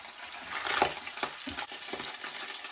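Liver frying in oil in a pan for pâté, a steady close sizzle broken by scraping stirs and soft clinks of a utensil against the pan.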